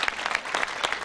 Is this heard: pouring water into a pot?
no